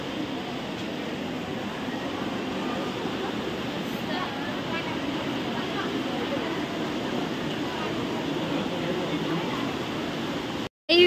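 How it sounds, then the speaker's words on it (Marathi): Steady, full rushing of river water released from a dam near a temple, a dense continuous roar from close by that holds evenly throughout before cutting out briefly at the very end. "हे मठाच्या इथे बघा नदी आहे, वाहती नदी."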